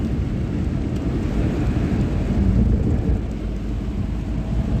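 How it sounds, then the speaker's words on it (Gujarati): Heavy rain pours down on a flooded street, a dense, loud, low roar that runs steadily throughout without a break. "વરસાદ ફૂલ ચાલુ છે"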